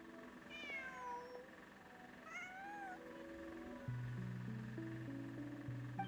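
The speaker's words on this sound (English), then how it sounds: "Just a cat." A cat meows twice in the video game Luna IV, short rising and falling cries over soft, steady background game music with sustained tones, fairly quiet overall.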